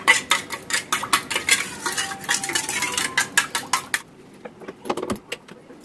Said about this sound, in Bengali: দুধ ডিম এটা ভালো করে ফেটিয়ে নিতে হবে